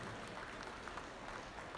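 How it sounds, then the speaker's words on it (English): A crowd at a junior market goat show applauds in a continuous, fairly faint patter of clapping for a short moment, with no voices over it. "Let's give them a big round of applause for their efforts."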